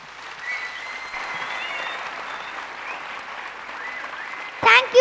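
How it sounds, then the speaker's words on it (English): Audience applause at a school annual day dance performance, a steady wash of clapping that holds throughout, with a sharp whistle or cheer rising near the end. "So keep clapping, keep whistling, because that is the only way how children will understand that their performance is appreciated."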